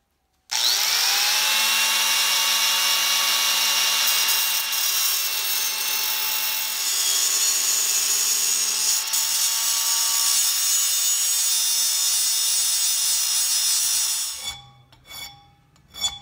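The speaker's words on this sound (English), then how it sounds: "I'll use a cutoff wheel on a 4-inch grinder initially just to get the bulk of that material out of there." A cutoff wheel on a 4-inch angle grinder slicing through 80CrV2 knife steel, a loud sustained high-pitched whine with a scraping edge lasting about fourteen seconds before the tool spins down.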